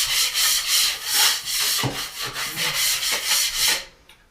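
A metal blade scrapes dried drywall mud off a textured wall in long, loud, rhythmic rasping strokes, close up, ending abruptly as the scraping stops.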